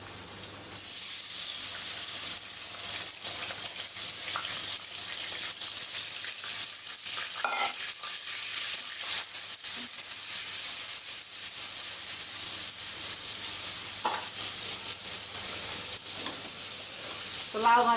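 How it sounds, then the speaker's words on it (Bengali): Dried fish (shutki) fries in a pan with a constant bright hiss and sizzle, broken by occasional stirring clinks and faint voices in the background. "এই যে শুটকি আগে ভেজে নিব"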